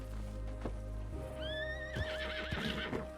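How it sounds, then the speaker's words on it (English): A horse in the RedM western roleplay game neighs with a long, wavering whinny while hooves clip-clop faintly beneath it, all set against a steady ambient hum. "Look at this horse. I love this horse."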